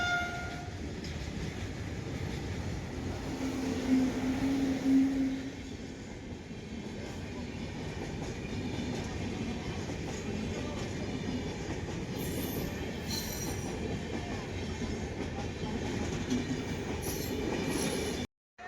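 A local train rumbles steadily past a nearby railway level crossing, wheels clattering and squealing faintly, with a short horn blast early on.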